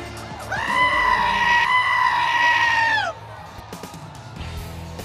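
Sheep bleating at a mutton busting event at the Reno Rodeo: one loud, drawn-out bleat close by, lasting about two and a half seconds, then quieter crowd and arena background.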